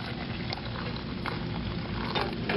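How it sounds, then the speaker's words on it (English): Boiling hot water is poured carefully over dehydrated pemmican food in a container, giving a steady, close hiss and splash that runs the whole time with no talk. "Just very carefully pour the boiling hot water"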